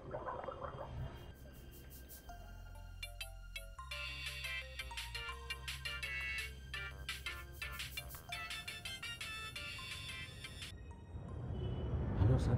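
A mobile phone ringtone plays a bright electronic melody of repeated chiming tones with a low buzzing pulse underneath, fairly loud and close, ending with rustling handling noise.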